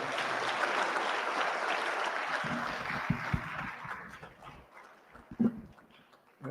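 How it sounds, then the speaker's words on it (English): Audience applause at a Ramsay High School event, a steady wash of clapping and crowd noise that gradually thins and fades over several seconds, with a few louder thumps near the end. "let's give her another round of applause."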